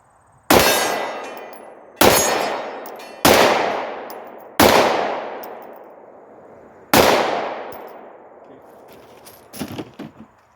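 A Sig 320 M18 pistol is fired one-handed: five sharp, loud single shots at irregular intervals, each ringing out with a long decaying tail, followed by a faint clatter at the end.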